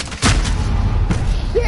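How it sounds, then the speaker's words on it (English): Gunfire in Call of Duty Modern Warfare (2019): a loud, close burst of shots rings out, then a second volley follows about a second later over a dense, continuous battle din. "I'm taking fire!"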